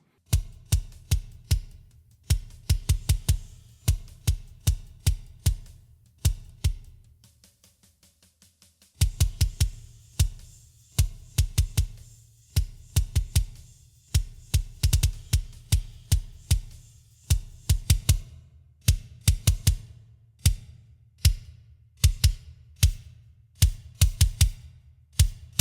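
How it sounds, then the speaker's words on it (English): A solo Yamaha kick drum with no EQ or compression, playing metal grooves as loud, punchy thumps in fast double-kick runs and steady patterns, with a short quiet gap partway through. "the kick drum sounds like this without any EQing"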